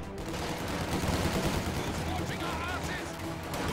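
Machine gun fire and combat in a video game battle, a sustained, dense clatter of distant gunfire and explosions, with a commentator talking over it.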